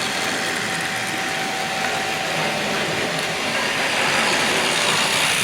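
A Hornby Triang model train, a Pacific locomotive, running round its track, giving a steady whirring motor hum with a faint rumble, continuous and close throughout.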